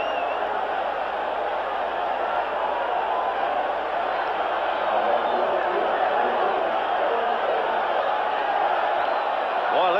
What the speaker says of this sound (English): Boy, listen to this crowd. They're alive now.